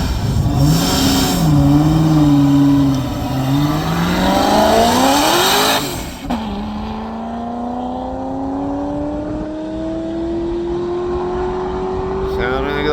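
A race car engine at an East Coast Timing Association land-speed event roars and revs hard, then shifts and climbs steadily in pitch as it launches and pulls away, loud and close.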